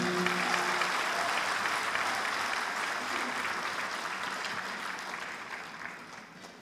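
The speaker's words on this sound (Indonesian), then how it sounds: "Berikan tepuk tangan Bapak Ibu sekalian" Sustained audience applause at a graduation ceremony for the first class of a party academy, dense and steady clapping from a large crowd that slowly tapers off.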